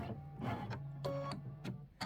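Sewing machine stitching through thick chenille quilt layers, a fast mechanical whirring in several short bursts with brief pauses, close and steady.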